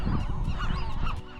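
Young gulls on Anacapa Island give a rapid series of close, harsh honking calls, several overlapping cries in quick succession with no talking.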